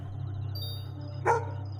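A single short dog bark from a video game rings out once near the end, over a steady low electronic hum and faint game tones.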